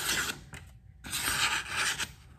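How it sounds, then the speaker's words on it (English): Dry, rasping swipes of a freshly sharpened knife blade, straight off an 800 grit stone, slicing through paper, two long strokes separated by a short pause, close and fairly quiet. "Can cut paper like that."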